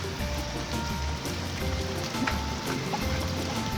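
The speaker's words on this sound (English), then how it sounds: "I had no idea that this rain was actually the start of a hurricane." Steady rain falling on a driveway on a Caribbean island at the start of a hurricane, a dense, even hiss of drops pattering on pavement with no voices.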